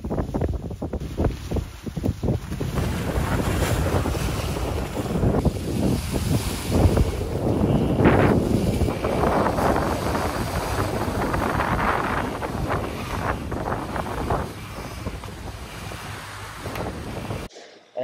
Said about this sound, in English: And now the wind has just changed from the southeast to the northeast.